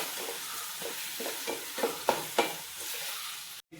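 Chopped onions sautéing and being stirred in a hot pan for mutton liver masala, a steady close sizzle with a few louder scraping stirs, ending in a brief cutoff.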